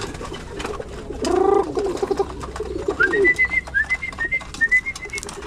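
A bird calls nearby: a short burst of cooing followed by a series of rising whistled notes repeated several times, alone over faint background noise.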